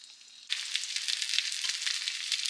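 Cube steak frying slowly in a pan, a loud, steady sizzle that starts abruptly after a quiet moment and keeps crackling evenly throughout.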